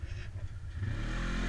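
An off-road vehicle engine revs on an enduro trail ride to fling mud from its clogged tyres, a close mid-pitched engine note rising and holding steady through the clip.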